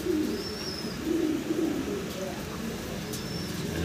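Pigeons coo softly in a fancy pigeon loft, low repeated murmuring calls close by, with a voice talking faintly in the background.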